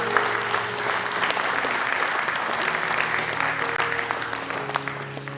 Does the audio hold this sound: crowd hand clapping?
yes